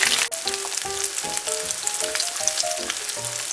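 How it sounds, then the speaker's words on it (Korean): Starch-coated pork ribs pan-fry in a hot pan, giving a continuous close sizzle with crackling pops and occasional stirring clinks. "넣어주시고 한 3-4분 정도 구워주겠습니다."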